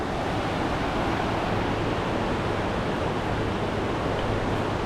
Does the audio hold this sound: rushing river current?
yes